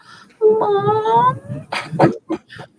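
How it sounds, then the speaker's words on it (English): A rescue cat's drawn-out, tonal meow sounds up close, followed by a few short, breathy vocal bursts. "And then her little meow is so adorable."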